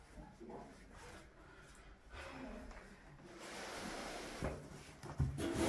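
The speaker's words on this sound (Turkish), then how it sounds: "Kapıyı kapatayım dur." A door is shut in a newly moved-into home, a short knock and thud near the end after rustling and moving-around noises, with people talking nearby.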